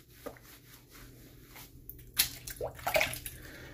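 Water splashes and trickles softly as a face is rinsed during a wet shave, faint close handfuls of water against a quiet background.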